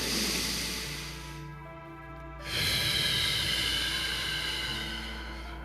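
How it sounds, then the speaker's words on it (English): Deep breaths taken in through the nose and let out through the mouth during a morning meditation, a long hissing inhale followed by a pause and a long, steady exhale, close and without speech. "3 nice deep breaths in through our nose, exhaling through our mouth."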